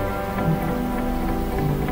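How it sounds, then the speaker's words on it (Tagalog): Rain patters steadily on a car moving along the Skyway elevated expressway in Metro Manila, a continuous wash of drops against the body and glass over low road rumble, with no talk. "Mukhang umuulan na"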